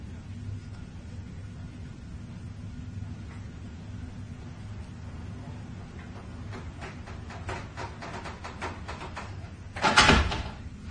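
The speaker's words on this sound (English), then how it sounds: "Can you shut the door again, please, Lucy?" A door swinging shut in a supposedly haunted building: a series of faint clicks and rattles builds over a low steady hum, then a single short, louder knock closes it near the end. No one speaks.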